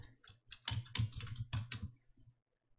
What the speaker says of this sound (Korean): 글자를 써볼게요